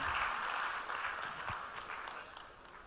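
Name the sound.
audience applause for the minister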